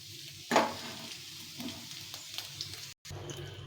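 Potatoes fry in oil with a soft, continuous sizzle, broken by a sharp utensil clatter early on and occasional quiet stirring scrapes.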